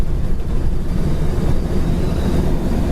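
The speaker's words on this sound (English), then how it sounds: "We do have a little wind noise in that wing window." Wind rushing through the wing window of a 1964 Chevrolet Impala while driving, a loud, steady low roar of buffeting air with road rumble beneath, no voices.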